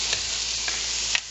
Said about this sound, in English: we're going to saute them until they're translucent